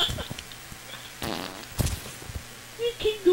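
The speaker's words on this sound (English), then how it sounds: "There's a fart button" A cartoonish fart sound effect from the fart button in the video game Amazing Frog blurts out several times among players' excited talk.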